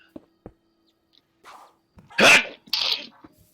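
A single sharp human sneeze bursts out loudly after a few quiet clicks and faint breathy sounds, followed by a short vocal exhale.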